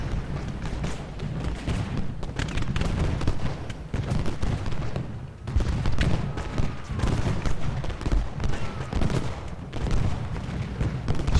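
Continuous musket volleys and artillery fire in the Ultimate General Gettysburg video game, a dense rumbling battle din of overlapping crackling shots and deep booms at steady loudness throughout.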